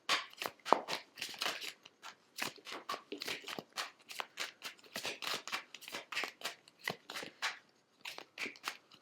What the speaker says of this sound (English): Oh my gosh, so many shuffles.